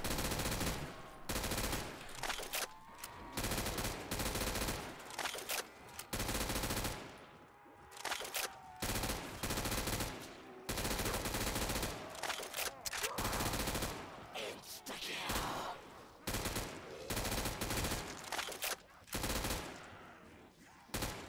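A Vector submachine gun in a video game fires in long rapid bursts, loud and close, separated by short pauses and reload gaps across the whole stretch.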